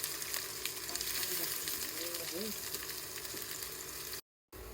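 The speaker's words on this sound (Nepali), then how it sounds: "यो भटमास फुट्दै मैले थोरै मेथी राखेँ" Soybeans fry in hot oil with fenugreek, giving a steady, fairly loud sizzle throughout that cuts out briefly near the end.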